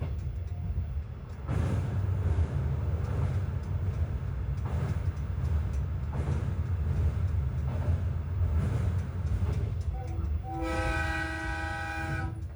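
A train on the Etsumi-Hoku Line rumbles steadily along the track from inside the carriage, a low continuous roll with rhythmic rail clacks, ending in a clear, sustained horn blast near the end.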